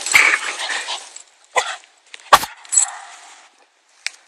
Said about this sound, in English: every time he barks, he hears his echo